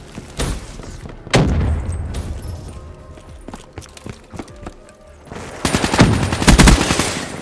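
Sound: submachine gun fire in Black Ops 3 video game

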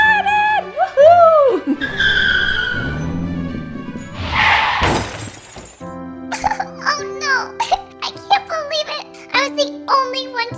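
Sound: car skidding and crashing sound effect

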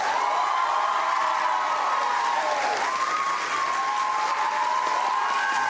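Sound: studio audience applause

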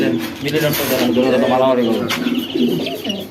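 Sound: opal grizzle pigeon cooing

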